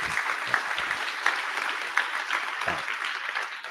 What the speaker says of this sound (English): Can I get a round of applause for Cobi?